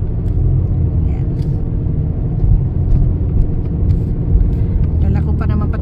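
A minivan rolls along a highway with a steady low road rumble and engine drone throughout, loud and close from inside the cabin, with brief brighter clicks and noises over the continuous hum.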